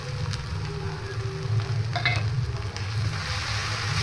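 Spices with garlic, onion, ginger, coriander powder and cumin powder frying in a pan give off a steady, soft sizzle, with light stirring scrapes running through it from start to finish.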